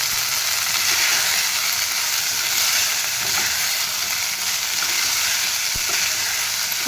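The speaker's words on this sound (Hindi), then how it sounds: "ये सबू जीरा भल भाव में फुटी गलानी" Cumin seeds crackle and sizzle steadily in hot oil while jeera rice is being cooked, a dense, continuous frying hiss heard close up with no talking.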